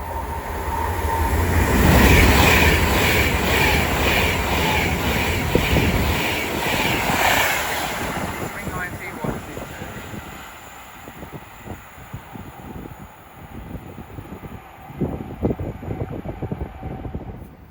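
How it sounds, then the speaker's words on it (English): An Avanti West Coast Class 390 Pendolino on the London Euston to Glasgow Central run roars through Watford Junction on the West Coast Main Line, loud and close at first, then fades into rumbling wheel and track noise as it moves away. "Soon to pass through now will be a Van to West Coast 390 Pendolino going from London Euston to Glasgow Central."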